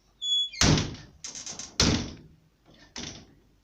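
A door is pulled shut in a few sharp, close knocks and thuds, with quiet rattling between the impacts.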